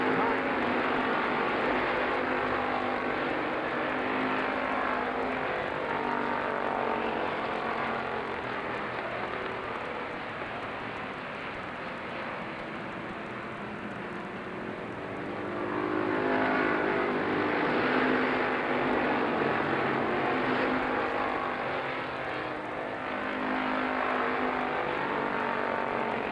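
Race cars circling Lorain County Speedway in Ohio, a steady broad engine roar that swells as the pack passes, with an announcer's voice running over the noise throughout.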